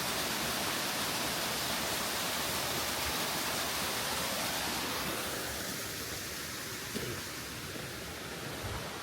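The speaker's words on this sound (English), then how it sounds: "Another little waterfall area." Small waterfall along a walking trail, a steady broadband rush of falling water heard close by and unbroken, with a faint footstep or two near the end.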